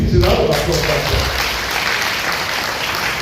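Audience at a Lagos State University event breaks into loud, sustained applause after a brief spoken word at the start, the clapping dense and continuous to the end.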